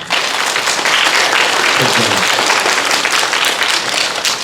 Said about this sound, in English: so you want to applaud him as well